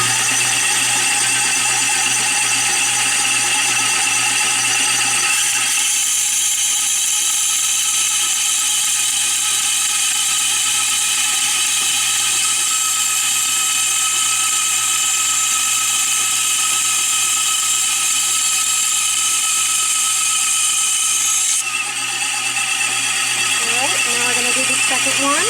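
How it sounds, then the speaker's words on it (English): A mini bandsaw cuts slowly through a piece of silverware flatware for jewelry, giving a loud, steady, high-pitched whine and buzz that runs unbroken throughout with slight shifts in tone. "if you're using the mini bandsaw"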